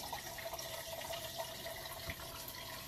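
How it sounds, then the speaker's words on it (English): Habanero brine poured from a container during hot sauce making, a steady close liquid splashing and trickling that runs continuously without pause, with no voices. "So I'm just going to pour it in here anyway."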